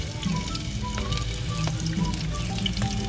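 Garlic frying in hot cooking oil, a steady close sizzle with crackles and pops throughout, alone without talk.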